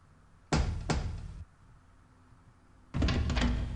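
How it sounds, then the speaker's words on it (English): Two heavy knocks on a mansion door in the game The Dark Eye, close and loud, followed after a pause by a longer burst of thudding. "let's knock on the door"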